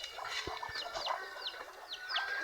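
Ducks on a small farm call with short, rising squawks, several in a row from close by, joined by low thumps and other farmyard noise, with no talking.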